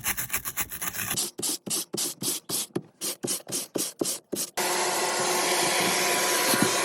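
Foam for a car dashboard being shaped by hand during a 1955 Ford Customline to BMW E39 body swap, with a run of rhythmic rasping strokes followed by a steady, loud continuous abrasive whir, close up with no talk.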